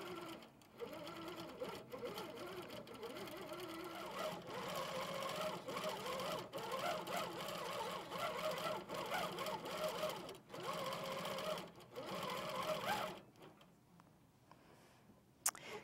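An HQ Pro-Stitcher longarm quilting machine runs a tie-off, a soft rapid ticking stitch rhythm with brief pauses, moderately quiet and close, ending in near silence with a small click.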